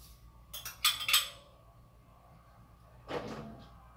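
A cup of sugar poured into batter for a whole-grain raw rice cake gives a short, soft, close rustling hiss, followed a couple of seconds later by a brief clink of a utensil.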